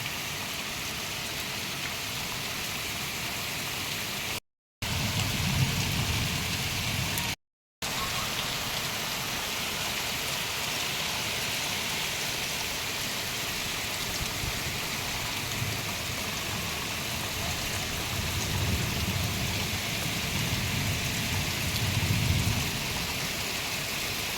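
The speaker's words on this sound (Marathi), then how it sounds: "मानेगाव येथे तुफान पाऊस चालू आहे" Steady heavy rain pours down continuously in Manegaon, Madha taluka, a dense hiss of drops drumming on surfaces close by, with no voices throughout.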